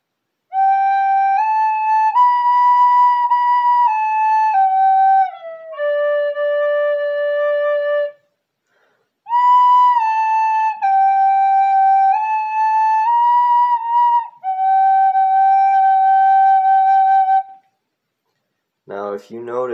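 A clear, pure tin whistle plays a slow melody of smoothly slurred notes in phrases separated by short pauses.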